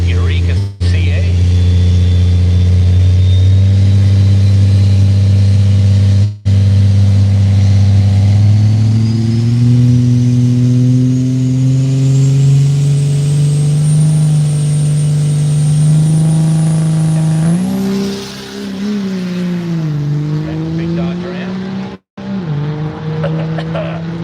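Vinny Lombardi's smoky diesel Ford Thunderbird launches down the Woodburn Dragstrip, a loud rising engine drone climbing steadily in pitch through the gears for about eighteen seconds before backing off, with announcer-style talk faintly over it.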